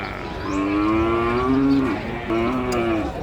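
Limousin cross cattle moo at a cattle market in Padangan, giving two loud, drawn-out calls close by over steady crowd and yard noise.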